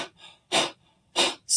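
A person imitates a dog's fast panting with quick breathy huffs: a soft one, then three sharp, close puffs in a brisk rhythm, alone without speech.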